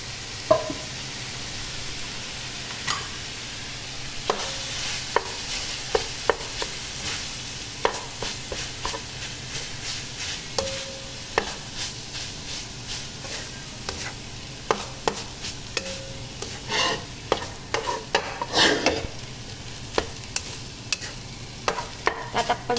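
Rice stir-fried for chao fan in a hot pan, a steady sizzle broken by frequent sharp scrapes and clacks of a spatula tossing the grains, close and continuous.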